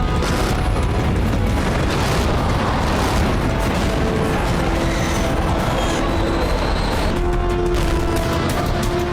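American missile strikes hit Syria in a loud, continuous barrage of booming blasts and heavy rumbling, dense and unbroken throughout, with no talk.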